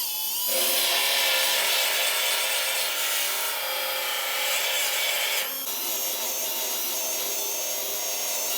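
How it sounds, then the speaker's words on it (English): A grinder cuts through spot welds on a 1968 Dodge Charger steel panel, giving a harsh, continuous abrasive hiss and rasp close by, with a brief dip at the start and a short break midway. "I grind through the welds that are right there"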